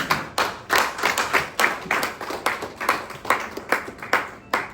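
An audience claps in a church setting, with sharp overlapping hand claps in a steady, fairly quick rhythm. The applause stays loud and close for the whole stretch, with no voices over it.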